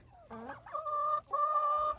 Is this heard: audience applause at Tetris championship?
no